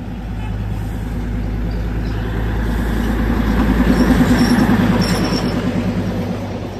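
Darjeeling toy train passing near Ghum station, a steady loud rumble of wheels and engine with rhythmic clatter that swells toward the middle and end, heard up close.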